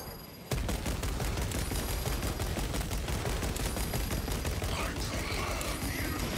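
Sustained heavy gunfire in Space Marine 2 starts abruptly and keeps going as a loud, steady, rapid stream of shots, with faint metallic clatter and screeches mixed in near the end.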